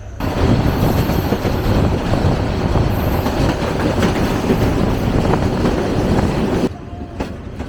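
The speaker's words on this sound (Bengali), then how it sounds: "আমাদের বুড়িমারি এক্সপ্রেস ট্রেন বঙ্গবন্ধু সেতুর পশ্চিম রেল সেতুর যে স্টেশন সেখানে প্রবেশ করতেছে" The Burimari Express pulls into the station at the west end of the Bangabandhu bridge. A loud, continuous rumble and clatter of wheels on rails, with faint squeals, drops away near the end.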